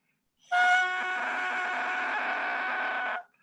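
A handmade bamboo cane wind instrument imitates a crow's call with one loud, reedy, sustained note lasting about three seconds, played close and alone.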